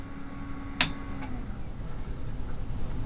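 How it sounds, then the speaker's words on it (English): A faint, steady whirring hum of the case fans of a Windows XP gaming PC, with a couple of sharp clicks near the start. "Now it's like more of a hum."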